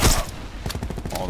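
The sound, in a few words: cluster grenade exploding in the video game Call of Duty: Black Ops 4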